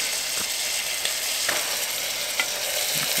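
Chili flakes and cumin sizzling and being stirred in a Swedish army m44 mess kit pan outdoors, a steady close frying hiss broken by a few soft scrapes of the utensil.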